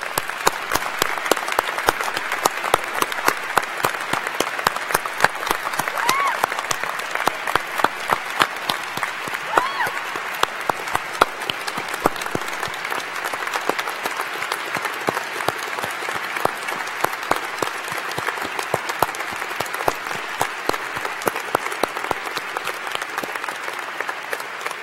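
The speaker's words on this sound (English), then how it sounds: "I'd like to give them a round of applause" Audience applause at a medical school commencement ceremony for young officers: dense, steady clapping from a large crowd that carries on evenly for the whole stretch, without voices.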